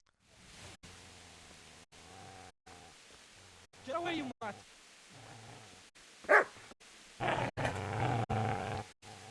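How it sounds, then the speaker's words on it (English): In the medieval video game Kingdom Come Deliverance, a dog gives a few short barks and growls amid low ambient game sound, with someone talking over it. "Dog. Mutt. Mutt. Mutt. I hear you, Mutt"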